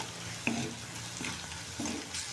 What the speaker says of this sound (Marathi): कांदा टोमॅटोला चांगले तेल सुटेपर्यंत हे मसाल्यात परतून घ्यायचं आहे